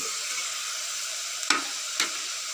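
Onions sizzle steadily in a hot pan, with two quick scraping stirs about half a second apart.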